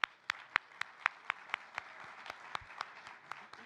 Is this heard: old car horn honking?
no